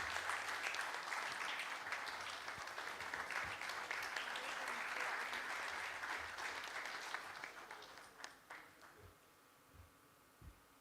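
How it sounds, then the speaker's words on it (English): Audience applause at a national management convention, a dense steady clapping from a large crowd that carries for about eight seconds, then thins into a few scattered claps and fades out. "Please give them a huge round of applause."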